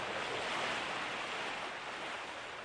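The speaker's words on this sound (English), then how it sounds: "The only thing I can hear is the sound of the waves." Ocean waves wash in the video game Persona 4 Golden, a steady broadband surf hiss that fills the short moment evenly and fades slightly toward the end, with no voices.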